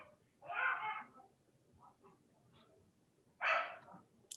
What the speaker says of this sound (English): Someone's dog wants to get involved.